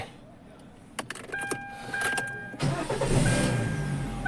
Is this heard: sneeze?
no